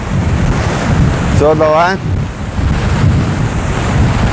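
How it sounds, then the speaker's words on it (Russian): Loud Black Sea surf crashes and roars under heavy storm wind buffeting at Vityazevo, Anapa, with a brief spoken exchange partway through. "такой вот шторм начинающийся у нас"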